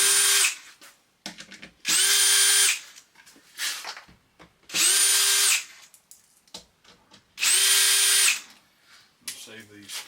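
A power drill backs screws out of the bottom of a wooden crate holding a Mid-America cue lathe. It runs in four separate bursts of about a second each, loud and close, with quiet handling noise and short pauses between them.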